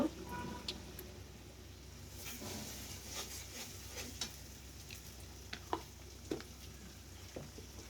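Ginger, garlic and cumin paste fries with onions in a pan for fish-head muri ghonto, making a soft, low sizzle broken by scattered clicks and scrapes of stirring.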